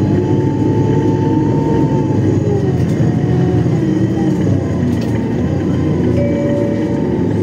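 Iveco Streetway 12 m city bus engine heard from inside during a ride: a loud, steady low drone and hum with shifting engine tones, continuous and unbroken throughout, with no talking.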